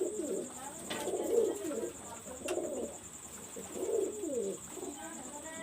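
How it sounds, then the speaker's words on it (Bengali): A pair of Dabla pigeons, male and female, give three soft, rolling coo phrases close by, evenly spaced over a quiet background with a faint steady hiss. "আমি এখন একটা কবুতর দেখাচ্ছি এটা ডাবলা কবুতর এটা ডাবলা নর ফিমেল"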